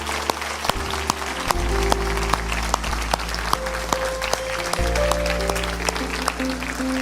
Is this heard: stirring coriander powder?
no